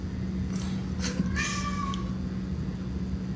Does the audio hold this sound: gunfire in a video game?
no